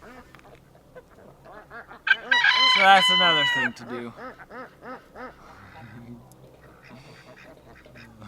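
Ducks quacking at a farm pond during chores, a loud burst of calls around the middle of the clip, with a person speaking before and after.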